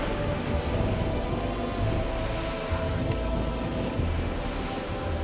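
Rough winter waves of the East Sea surge continuously around a fishing boat out on the open water, a dense low roar of water and wind with no talk.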